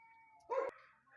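A single short cat meow, faint and somewhat distant, against quiet background hum.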